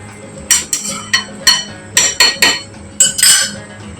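Metal lid set onto a cooking pot of doi potol, a series of about ten sharp close clanks and clinks in an uneven rhythm, some quick pairs, over a quiet background.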